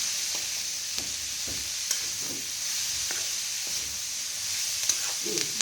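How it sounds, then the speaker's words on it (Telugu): Beetroot curry fries in a pan with salt, turmeric and chili powder, giving a steady close sizzle broken by repeated scraping strokes of stirring. "బీట్రూట్ ఫ్రై అనమాట"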